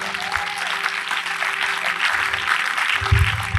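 A church congregation at a seminar applauds for the glory of the Lord, steady dense clapping from many hands filling the room throughout.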